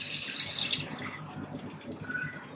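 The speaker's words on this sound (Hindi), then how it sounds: "1 गिलास पानी डाल देंगे" A glass of water is poured into simmering beef biryani masala in a home kitchen, giving a steady close splashing hiss that lasts a couple of seconds without any talk.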